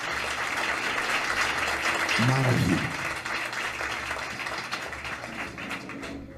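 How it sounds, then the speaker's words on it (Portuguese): A church congregation claps for Jesus in a long sustained round of applause, broad and steady throughout, while a voice briefly speaks over it. "Os que podem dar a Jesus mais uma linda salva de palmas."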